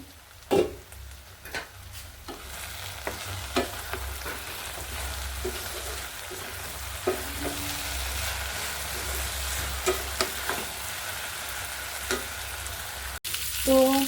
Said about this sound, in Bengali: এখন একটু ভাজিটা নাড়াচাড়া করে দিই